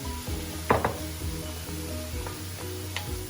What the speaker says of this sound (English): Now I'm going to go in with the carrots. Let those cook as well.